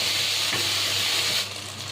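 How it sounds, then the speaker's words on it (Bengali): Chopped tomato and garlic fry in a pan with a steady, close sizzle and a faint stirring scrape, the hiss easing slightly near the end. "সেই টমেটো কুচিটাও দিয়ে দেবো। একটু ভাজা ভাজা করে নেব যাতে রসুনের কাঁচা গন্ধটা চলে যায়।"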